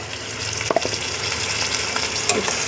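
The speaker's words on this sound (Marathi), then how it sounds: "पेस्ट आता आपण तेल सुटेपर्यंत फ्राय करून घ्यायची." Paneer tikka masala paste frying in oil, a steady loud sizzle with a few scraping stirs throughout, no voices.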